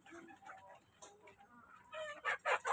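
Chickens cluck at feeding time on a small farm that also keeps pigs, several soft, scattered clucks near and far, building to a few louder, sharper calls near the end.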